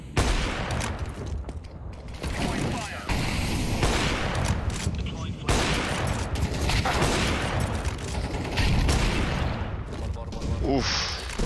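Rapid gunfire bursts from CS:GO, with S1mple's rifle shots crackling loud and dense throughout, overlapping with excited commentary voices and game effects.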